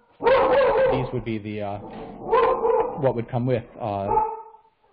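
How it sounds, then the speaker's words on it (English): A dog barks intermittently in the background, the yips partly masked by someone speaking continuously in the foreground during a talk on solving the climate challenge. "the dog is making some noise."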